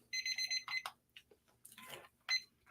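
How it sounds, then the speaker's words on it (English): Kitchen timer alarm ringing in rapid electronic beeps, sounding in short bursts near the start and again near the end, with quiet clatter and rustling between. "Timer's going."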